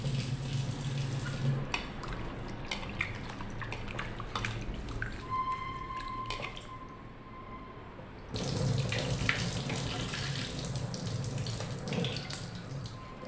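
Tap water runs into a kitchen sink while a one-kilo farm chicken is washed, a steady splashing stream with handling clatter, briefly dropping to drips and a quieter trickle midway before the full flow resumes.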